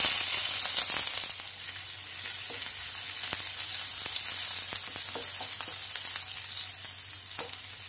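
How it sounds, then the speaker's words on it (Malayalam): Finely chopped ginger and green chillies fry in hot oil for a pulissery, a continuous close sizzle broken by occasional light taps of a stirring utensil. "അതിലേക്ക് ചെറുതായിട്ട് അരിഞ്ഞു വെച്ചിട്ടുള്ള ഇഞ്ചിയും പച്ചമുളകും ഒക്കെ ചേർത്ത് കൊടുക്കാം."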